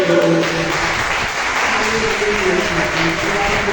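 A church congregation applauds together during a worship service, a loud, dense wash of clapping that holds steady throughout, with faint tonal sound beneath it and no clear speech.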